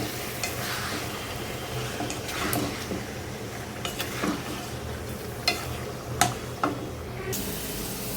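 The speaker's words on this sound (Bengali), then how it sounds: "মাখায় ডিরেক্টলি তেলে দিয়ে দিছি এটাকে ভাজার জন্য। হ্যাঁ, একটু ভেজে নিব, হালকা করে একটু তেলে ভেজে নিচ্ছি।" Spiced chicken pieces fry in oil, a soft, steady sizzle under repeated stirring, with sharp clinks of a utensil scraping the pan now and then.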